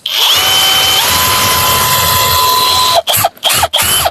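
A power drill drives a screw hook into a wooden birdhouse with a steady high whine for about three seconds, then a few short stop-start bursts.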